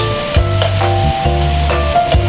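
Flat noodles with chicken cubes, beans and carrots stir-fried in a pan, sizzling loudly throughout while the spatula scrapes and tosses in a regular rhythm, with no speech.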